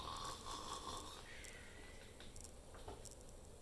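A voice imitates a little bear snoring in a growly, snuffly way, soft and close, with rough breathy rasps and wheezy snorts that keep going steadily.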